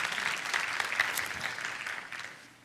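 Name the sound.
audience applause for the guards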